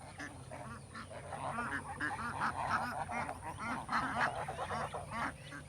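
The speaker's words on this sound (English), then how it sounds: "And then we have just a bunch of little ducks." A group of young ducks quacks continuously in a chattering, overlapping chorus, fairly close and steady throughout.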